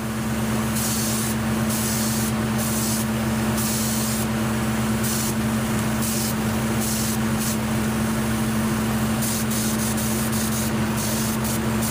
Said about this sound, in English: All right, we're getting ready to put the Cerakote on now.